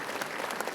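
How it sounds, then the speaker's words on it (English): An audience at an award ceremony gives a dense burst of applause for former President Pranab Mukherjee, many hands clapping together in a brief steady wash. "a loud round of applause for the former President, His Excellency, Shri Pranab Mukherjee"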